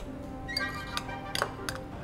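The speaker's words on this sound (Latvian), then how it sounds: "Siļķei klāt pieliesim nedaudz eļļu, bet neņemsim olīveļu, paņemsim parasto augu. Viņai būs mazāk izteikta piegarša un nu jau visu kārtīgi samaisam." Herring tartare mixed with plain vegetable oil is stirred in a bowl with a utensil, giving light clinks and taps of metal on glass or ceramic in an irregular rhythm, close and fairly clear.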